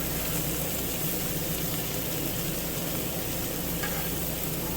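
Fries frying on a Blackstone griddle make a dense, continuous hiss and crackle. The sizzle is loud and even from start to finish.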